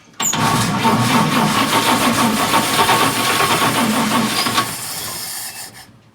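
A 1946 Chevrolet truck engine cranks and fires up after a fresh fuel hose, given a little gas, running with a loud, rough rattling roar for several seconds before cutting off abruptly.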